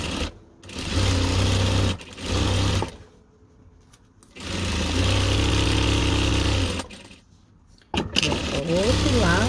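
Sewing machine stitching a bag handle into the side seam, running in bursts of a few seconds with a steady buzzing whir, stopping and starting, while someone talks between runs.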